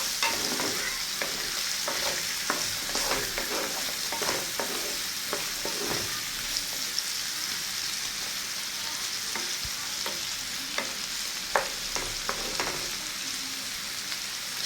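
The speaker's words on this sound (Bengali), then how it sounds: "এগুলো কিছুক্ষণ ভেজে নিব, 4 থেকে 5 মিনিট পর্যন্ত নেড়ে চেড়ে ভেজে নিব" Chopped onions and chilies frying in oil while being stirred for a pumpkin mash, with a steady close sizzle and frequent scraping and stirring clicks throughout, no talk.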